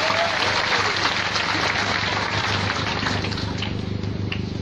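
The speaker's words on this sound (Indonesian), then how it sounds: "Tepuk tangan untuk Minahasa." A large crowd at a church youth camp in Minahasa breaks into applause, a broad continuous roar of clapping that holds steady and fills the space, with a faint low hum underneath.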